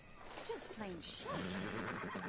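A horse whinnies twice in quick succession in the video game Red Dead Redemption, close and loud, over a steady background hum with faint voices.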